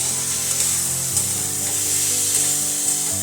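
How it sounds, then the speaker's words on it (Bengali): Mung beans, poppy seed paste and turmeric powder sizzle in a hot pan as a spatula stirs and scrapes them around, a steady close frying hiss with soft scraping strokes throughout. "হলুদ গুঁড়ো দেওয়ার পর আবার একটু নাড়াচাড়া করে নিলাম।"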